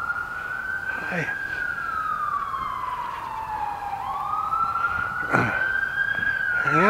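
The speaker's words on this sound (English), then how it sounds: "Ambulances, 1, 2." A siren wails in a long rising and falling sweep, loud and close, with a couple of brief sharp bursts of other noise partway through.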